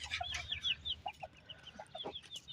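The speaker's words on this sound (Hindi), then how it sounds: "अब ये मुर्गियों के पास आ गए।" Several hens cluck and chirp in short repeated calls while being fed millet outdoors on a cold day, close and moderately loud, with no talking.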